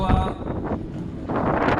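Steady wind rumbles and buffets against the microphone outdoors, a continuous low roar with gusts rising and falling.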